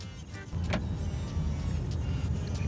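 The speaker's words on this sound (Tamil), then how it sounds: "வண்டி கிளம்பிடுச்சு." A car on a road trip through Malaysia pulls away and drives on, a low steady engine and road rumble rising slightly as it gets moving, close and alone without speech.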